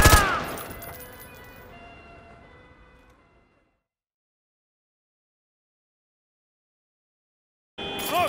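One loud, sharp video game gunshot cracks up front, its echo decaying over roughly three seconds before silence, and then another loud burst cuts in right at the end.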